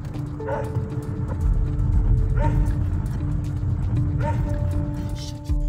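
Dogs bark and yip in three spaced outbursts over a steady low rumble, fairly near and clear.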